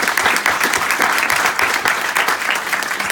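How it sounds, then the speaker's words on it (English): A large audience at a 2018 University of Texas law school LL.M. graduation breaks into loud, continuous applause, thick and even from start to finish. "Please give them a big applause"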